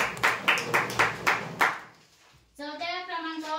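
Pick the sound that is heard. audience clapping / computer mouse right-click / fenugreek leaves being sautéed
audience clapping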